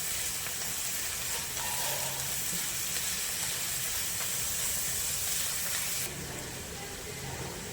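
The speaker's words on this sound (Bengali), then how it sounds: "মশলাটা ভালো করে কষবো, আদা রসুনের কাঁচা গন্ধটা যাওয়া অবধি।" Ginger and garlic paste masala sizzles in hot oil while cooking for chicken tehari, giving a continuous even hiss that holds steady throughout and softens slightly near the end.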